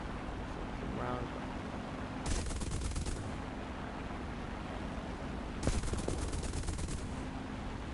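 Two short bursts of aircraft machine-gun fire in War Thunder, each lasting under a second, rattling over a steady engine drone with faint background talk.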